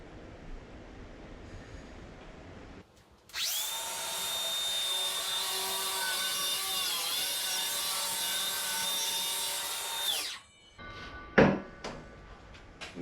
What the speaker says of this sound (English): Grab the saw and just run it through.